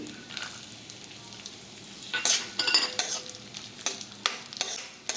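Cashews and raisins fry in a pan for rava laddu, with soft sizzling and repeated scraping stirs of a spoon, growing louder and busier partway through.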